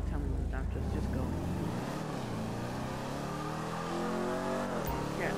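An engine accelerates steadily in a GTA 5 Online video game, its pitch climbing through a sustained drone with a gear shift near the end, loud and continuous.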